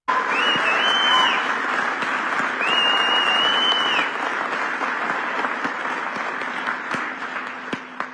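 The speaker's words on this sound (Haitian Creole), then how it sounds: "vous capable tendre audience là qui bat bravo pour déclaration d'âme ça" An audience breaks into sustained applause after a declaration, a dense wash of clapping hands filling the room with no speech above it.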